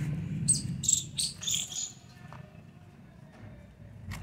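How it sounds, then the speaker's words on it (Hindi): Squirrels chatter from the trees around a garden terrace in quick bursts of high, sharp chirps, loud early on and then fading to sparse calls over a low background. "आपको पीछे गिलहरियों की बहुत तेज़ आवाज़ सुनाई दे रही होगी।"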